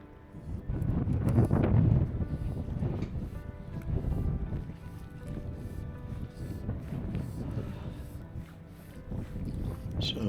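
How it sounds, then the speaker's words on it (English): Gusting wind while fly fishing near Ullapool in Sutherland, Scotland, rumbling against the microphone in uneven surges, strongest early and then easing to a steady rough blow. "The wind was violently gusting that day"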